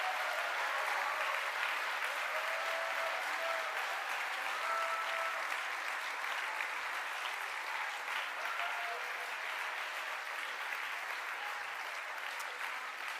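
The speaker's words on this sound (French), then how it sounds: "Je veux qu'ils aient autant d'applaudissements" Sustained applause from a large crowd at a political party launch speech, steady and dense clapping filling the whole stretch without letting up.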